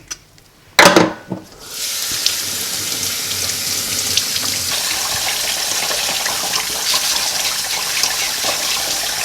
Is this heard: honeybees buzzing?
no